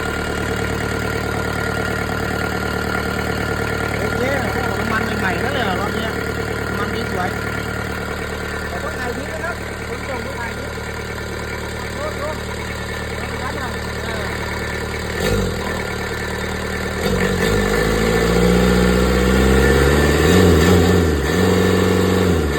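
A Kubota V1505 four-cylinder 32 hp diesel engine runs loud and close, a steady idle that rises toward the end, with voices talking over it.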